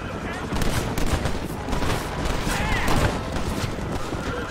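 Rapid gunshots in the Western game Red Dead Redemption crack in fast, uneven volleys over a few seconds, fairly close and loud, with voices speaking and hoofbeats in the background.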